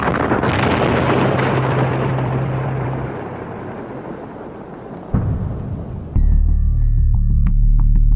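A rocket engine ignites with a sudden loud roar, then a dense, rumbling blast that fades slightly before a second surge of low thunder near the end; no voices accompany the launch.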